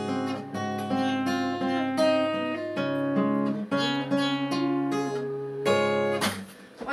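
Acoustic guitar plays an advanced fingerpicked arrangement of Lavender's Blue, with steady plucked notes over a sustained bass line and a final strummed, ringing chord; close, clear and alone without talk.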